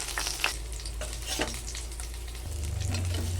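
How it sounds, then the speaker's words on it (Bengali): Koi fish fry in hot oil in a wok, making a continuous close crackling sizzle with small pops and a low steady hum underneath, with no voices. "তো আমার মাছগুলো ভাজা হয়ে গেছে, এখন নামিয়ে নেব একে একে"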